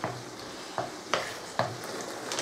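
Chicken and mushrooms sizzling quietly in an uncovered pan, a soft steady fry broken by a few sharp scraping stirs, with no voices.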